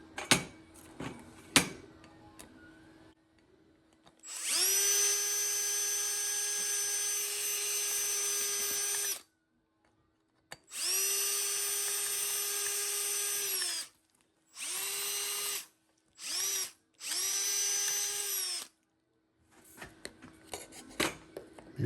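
A bigger bit in a power drill boring out a plastic collar on an umbrella: several whining bursts of a few seconds each with short pauses between, close and loud, with faint clicks and handling noise before and after.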